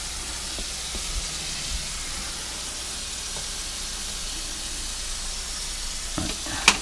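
Food sizzles and fries in a pan with a constant hiss while a utensil stirs it, close and steady, with a few light scrapes and a sharp clink near the end during steak cooking.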